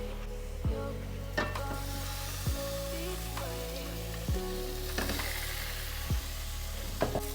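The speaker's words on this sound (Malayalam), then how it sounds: "നമുക്ക് നേരത്തെ മാരിനേറ്റ് ചെയ്ത് ഫിഷ് ഒന്ന് തവ ഫ്രൈ ചെയ്തൊന്ന് മാറ്റി വെക്കാം" Mangalore-style masala-marinated fish frying in oil on a tawa, a steady close sizzle broken by several sharp clacks spaced a second or two apart.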